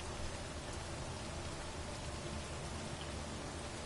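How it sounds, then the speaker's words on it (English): Steady, dense rain falling in a survival video game, a continuous even hiss with no breaks or other sounds throughout. "It's raining. So let's go. Wow, it sounds really nice too."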